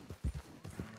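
Horse hooves clip-clopping in the video game Red Dead Redemption 2, a few close, low, uneven thuds in quick succession.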